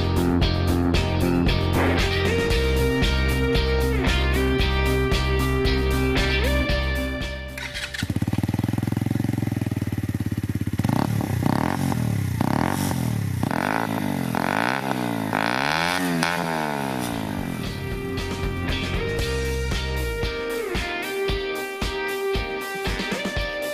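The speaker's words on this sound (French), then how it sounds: "C'est un son grave qui sort du pot court et fermé au bout, la façon super trap comme on en voit souvent sur les customs." A 2017 Bullit Hero 125 scrambler motorcycle with a short, closed-end trap-style exhaust gives a deep, throbbing idle, then revs up and down in rising and falling sweeps before settling back to a steady burble, close and loud.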